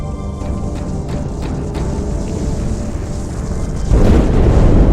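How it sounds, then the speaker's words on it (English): An explosion in the Halo 2 campaign: a steady, noisy rumble builds, then a heavier, louder boom-like wash swells in near the end, with no speech. "That explosion came from inside"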